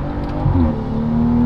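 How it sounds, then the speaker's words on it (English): A car with Mickey Thompson drag radials accelerating hard in second gear on a pull, engine note climbing steadily in a loud, close, sustained rising whine over the short burst, with no voices. "actually I'll probably do a second gear pull"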